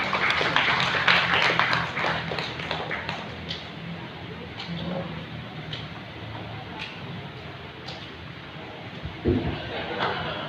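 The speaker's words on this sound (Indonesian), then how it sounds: "Tepuk tangan untuk Bapak kita semua." Scattered clapping and applause for the Regent of Kebumen at a World Childhood Cancer Day commemoration at Pendopo Kebumen, sparse hand claps in an uneven rhythm with voices in the background.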